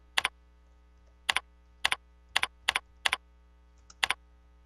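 Keys tapped one at a time on a computer keyboard: about seven sharp, separate clicks, each a quick double snap, spaced roughly half a second to a second apart over a steady low hum, with no talking.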